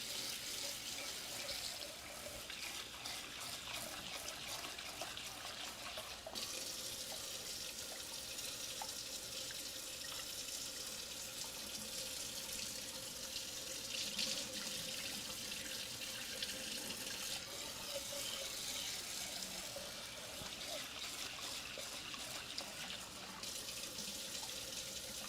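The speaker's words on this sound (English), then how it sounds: "Wash this rice real quick." Tap water runs steadily into a kitchen sink as rice is washed, a continuous soft splashing and gurgling stream at moderate distance with small shifts in the flow, no voices present.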